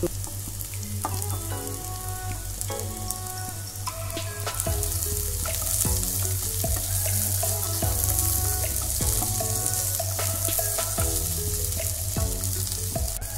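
Potatoes fry with onions in a pan, a steady close sizzle with repeated scraping and stirring strokes from a spatula throughout, and no talking.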